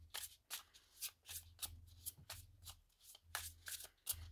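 Oracle cards, a Thistledown deck, are shuffled by hand in a quick series of crisp riffling bursts, close and fairly quiet, with short pauses between them and no talking.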